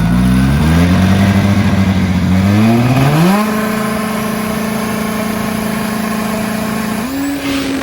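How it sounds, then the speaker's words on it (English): An old school turbo drag bike at a racetrack, its engine droning loud and close, the pitch stepping up through several climbs before holding at a high steady whine, then lifting once more near the end. "This is an old school turbo bike."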